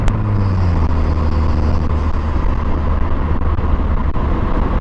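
Vanderhall Venice three-wheeler accelerating hard on a canyon road, a loud, steady engine roar with strong low rumble and rushing wind, continuous with no voices.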